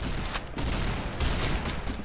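Rapid bursts of video game gunfire in Roblox Arsenal, a dense, loud volley of shots packed tightly together over a couple of seconds.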